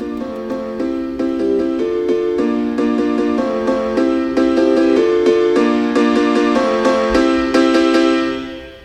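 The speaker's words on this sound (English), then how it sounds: "of course I had to fade in the drop piano here, so this sounds like this." A bright drop piano in a nightcore production plays repeated chords and melody notes, loud and up front, ringing out and fading at the end.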